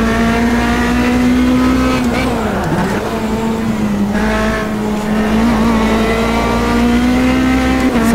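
Metalmoro P2 prototype race cars in Automobilista 2 hold a loud, steady engine drone close by, the pitch dipping briefly as a shift or lift comes and then climbing back, with a faint trace of tire noise.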